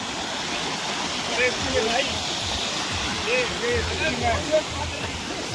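A waterfall on a stream along a jungle trek rushes steadily nearby, a continuous broad wash of water noise, while people talk over it.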